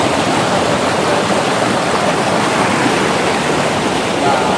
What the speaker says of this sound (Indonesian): Ini kita sedang berada di sungai itu.